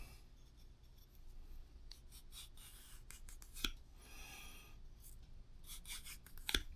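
Soft rubbing and rasping strokes of a leather edge tool being pulled through a clamped strop, repeated scratchy drags close by with a couple of sharper clicks and no talking.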